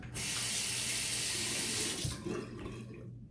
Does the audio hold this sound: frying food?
no